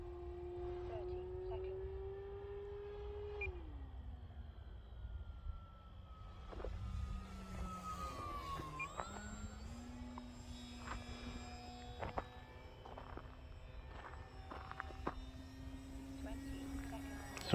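An RC Sportster model airplane engine whines through high-speed passes and a loop, its tone sliding down and then back up as it flies past, with a voice talking faintly underneath.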